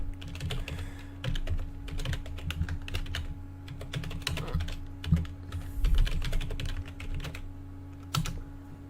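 Someone types a web link on a computer keyboard, with quick bursts of clicking keystrokes separated by short pauses over a steady low electrical hum.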